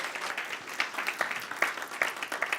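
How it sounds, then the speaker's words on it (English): Modest applause from a small audience at a speakers' retreat session, with scattered individual claps over a steady patter, fairly quiet and alone without talk. "Give her a round of applause."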